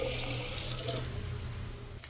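Rice-washing water poured from a vessel into a pot while making Pongal, a steady close splash and trickle that runs for about two seconds before tapering off, with no talking.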